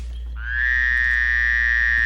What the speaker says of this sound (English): What is it? A frog.